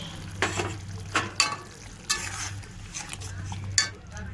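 Young jackfruit being stirred and fried in oil in a pan, with soft continuous sizzling broken by several scraping clinks of a spoon against the pan, close and moderately quiet.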